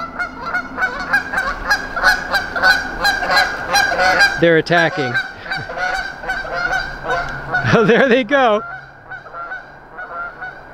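Geese honk loudly and repeatedly near a creek, a dense chorus of close calls with a few louder bursts, while someone speaks briefly over them.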